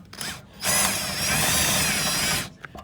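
A power driver spins T25 screws into a rusty filler neck on a 2001–2004 Dodge Dakota during fuel pump replacement, a close, loud whirring burst of about two seconds with brief clicks before and after.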